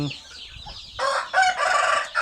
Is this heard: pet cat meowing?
no